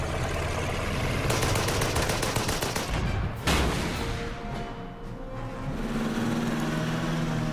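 Panzerjäger tank destroyer opening fire in the wartime strategy game Order of Battle, desert Operation Crusader setting: loud sustained barrage of game gunfire with a sharp blast near the middle, continuous with no talking.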